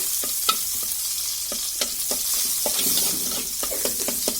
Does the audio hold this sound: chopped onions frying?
yes